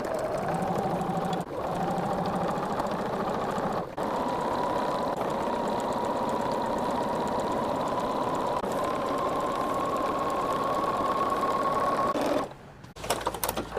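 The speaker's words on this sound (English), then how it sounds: "we're going to pin and just start sewing and keep going" A sewing machine runs in one long steady burst, stitching pinned cotton quilt pieces with a fast, even mechanical whir, briefly pausing near the start before stopping at the end.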